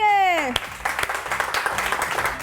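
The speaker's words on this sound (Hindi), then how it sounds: "इनके लिए तालियां होनी चाहिए" Studio audience on a Pakistani morning show breaks into applause after a brief sung or spoken intro, with dense, steady clapping filling the rest of the moment.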